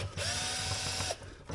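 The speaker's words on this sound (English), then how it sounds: "let's see if I got the right socket. There's a series of bolts around this top here." Socket ratchet working bolts loose from the clutch cover of a Polaris Ranger 570 SP Premium, a steady run of rapid close mechanical clicking with a brief pause near the end.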